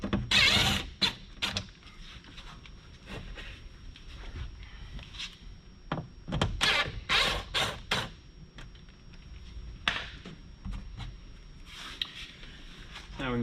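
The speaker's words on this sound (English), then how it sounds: "Go ahead and pull these screws out" Screws come out of a Ford F-Series door block-off plate in a run of close, sharp mechanical clicks and creaks, separated by quieter pauses.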